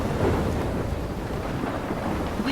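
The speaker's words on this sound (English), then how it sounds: "trapped in a storm?" Thunderstorm in the video game Life is Strange: a dense, steady roar of heavy rain with deep rumbling thunder underneath, loud and continuous, with no talk.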